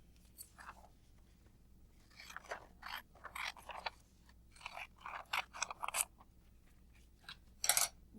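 Quiet, irregular snips and crunches of scissors cutting paper during a math lesson, in short clusters with pauses, over a low background hum.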